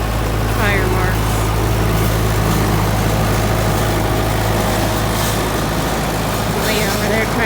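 A farm tractor engine drones steadily and loudly throughout while levelling out tire marks in a cattle field, with wind-like rumble and faint voices underneath.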